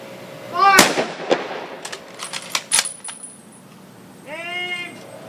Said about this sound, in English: Fire volleys.